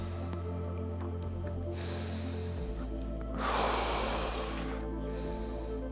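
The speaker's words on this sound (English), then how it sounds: "I'm just going to breathe with that for a minute." Deep breathing in a quiet room, with a slow inhale followed by a longer, louder exhale over a steady low background hum.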